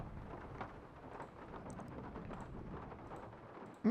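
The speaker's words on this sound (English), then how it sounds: "Nice cozy thunder." Game thunder in Nancy Drew: Legend of the Crystal Skull rolls as a soft, continuous low rumble under a patter resembling rain, quiet and steady throughout, ending with a brief louder tone.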